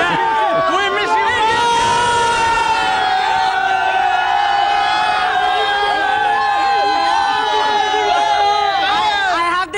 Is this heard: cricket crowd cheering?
yes